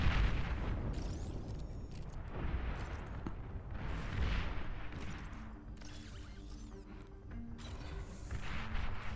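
Rumbling explosions and rapid weapon fire roll through a large Beyond All Reason real-time strategy battle, dense overlapping blasts and booms continuing throughout, with sweeping laser-like tones in the mix.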